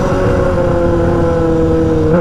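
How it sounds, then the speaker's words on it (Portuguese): Honda Hornet motorcycle with a straight-pipe exhaust, engine idling loud and close in a steady, deep, rough drone, heard alone with no talk. "O motoque tá com barulho muito lindo"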